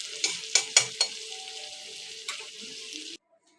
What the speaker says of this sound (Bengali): দেখো আমার বেরেস্তাটা ভাজা হয়ে গেছে